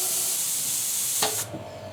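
A small apartment airbrush compressor runs with a steady, fairly loud airy hiss and a faint low hum, then a brief click near the end before the hiss drops away.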